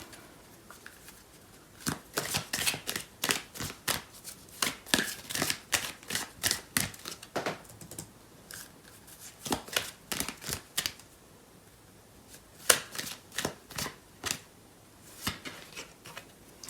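Tarot cards are shuffled in repeated quick riffling bursts, crisp and close, in clustered runs separated by short pauses, with no voice.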